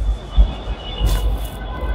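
A metro train rumbles low and steady through a metro station as passengers come down from the platform, with faint clattering bursts over the continuous noise and no clear talk.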